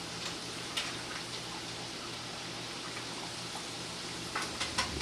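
Empanadas sizzle steadily in hot frying oil, a soft continuous bubbling hiss with a few faint pops and crackles rising over it, close by and with no voices.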